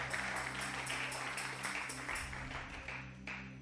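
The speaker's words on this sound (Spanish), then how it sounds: "Un aplauso fuerte al Dios que vive" A church congregation applauds loudly and steadily, a dense wash of many hands clapping together with a rhythmic pulse, close and sustained with some voices mixed in.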